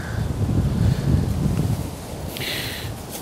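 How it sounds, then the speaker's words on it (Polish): Wind gusts buffet a microphone outdoors beside a winter carp-fishing spot in January, giving a rough low rumble that swells and eases over a few seconds. "troszeczkę dzisiaj wiatr wieje"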